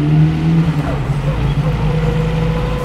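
A 1934 Lagonda Rapier four-seat tourer with a small 1104cc twin cam engine drones steadily while driving on a cold winter afternoon in North Yorkshire, the engine tone shifting slightly as it pulls.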